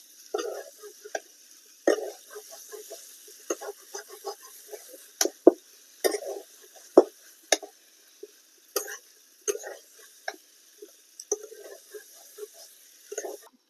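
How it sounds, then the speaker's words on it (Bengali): Fried potatoes and green jackfruit stirred and sautéed in a pan: irregular bursts of spatula scraping and light sizzling at close range, separated by short quiet gaps, with no voices. "এবারে ভেজে রাখা আলু দিয়ে দিচ্ছি। এবারে আবার 3-4 মিনিট কষিয়ে নেব।"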